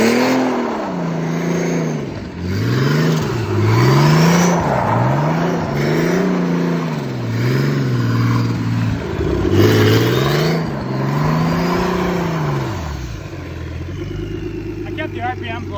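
A turbocharged BMW engine in a go-kart revs hard on a dyno, loud and close, rising and falling in repeated surges for about fifteen seconds, with voices talking over it.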